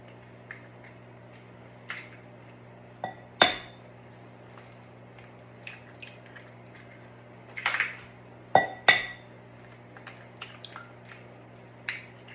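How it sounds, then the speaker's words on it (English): Eggs cracked into a bowl for a Southern pecan pie, several sharp taps and cracks spaced across the quiet, each followed by soft wet spills, near and fairly faint. "I'm going to take my eggs and crack them into the bowl."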